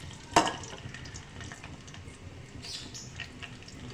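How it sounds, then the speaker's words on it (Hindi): White cumin seeds frying in mustard oil as a tempering, a soft, fairly quiet sizzle opened by one sharp clack of a utensil, then light stirring. "सफ़ेद ज़ीरे को फ्राई कर लेंगे जितना हम फ्राई करते हैं भगार के लिए।"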